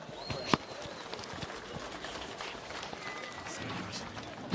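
Spectators at the Donegal International Rally start ramp applaud outdoors, a distant, steady wash of scattered clapping with one sharp knock early on and some talk around it.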